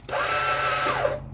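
A high, steady electric whine starts abruptly, holds for about a second, then winds down: the starter motor of a CFMoto Z6 spinning without the engine catching.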